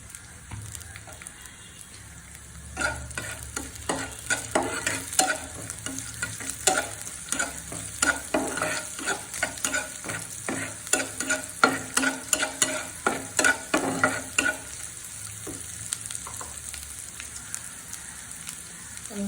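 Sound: frying chopped garlic and fried chillies for achari dal

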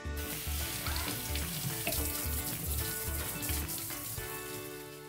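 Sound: tap water rinsing potatoes in sink

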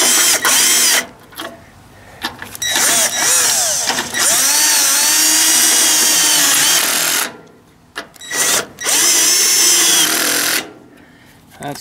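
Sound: power tool tightening homemade bolts on a Ford 800 tractor exhaust

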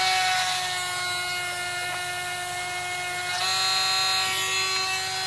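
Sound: Dremel rotary tool cutting with sandstone bit

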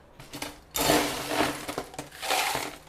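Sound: scooping ice for strawberry/peach milk drink

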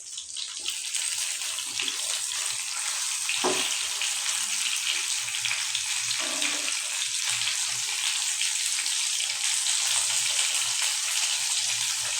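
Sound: rohu fish frying in a pan

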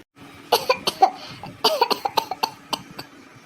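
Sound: cartoon character coughing

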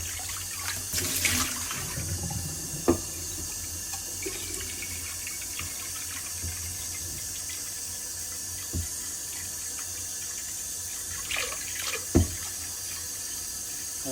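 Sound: tap water filling a pot

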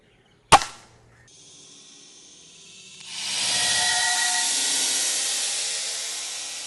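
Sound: air rifle shot at paint bottle

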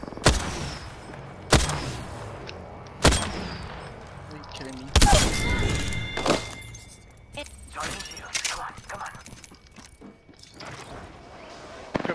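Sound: frag grenade thrown and exploding in a video game

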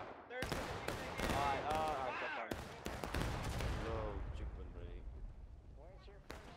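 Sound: musket volley fire in War of Rights video game

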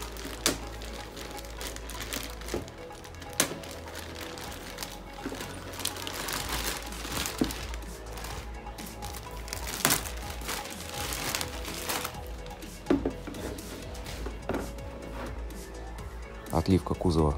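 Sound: plastic bag crinkling while unpacking an RC car body

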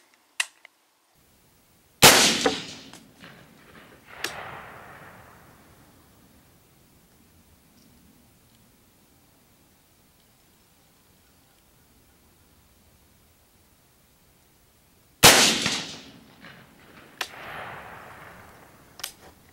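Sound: rifle gunshots while sighting in

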